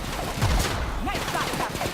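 Gunfire from The Outer Worlds, a burst of rapid shots close and loud, with companion voices calling out over the firefight.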